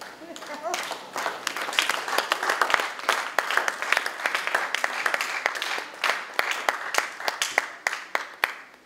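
Congregation at a French-language church service applauding and cheering in praise, a dense run of clapping with raised voices mixed in, steady and close throughout.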